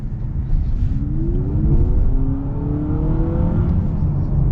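A 2026 Honda CR-V Trailsport accelerating from inside the cabin, with a steady engine hum rising in pitch through the gears over a constant bed of road and tire noise, loud and continuous with no talking.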